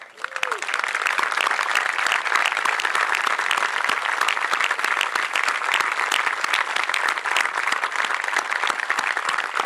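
A large crowd applauds loudly and steadily for the whole stretch, dense clapping with no pauses and no voices rising above it.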